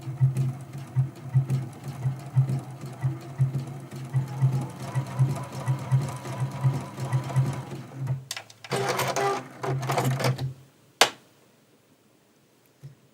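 A sewing machine runs a blanket stitch for quilt appliqué, its steady rapid stitching filling most of the stretch before pausing, then a short final burst of stitching and a click before quiet.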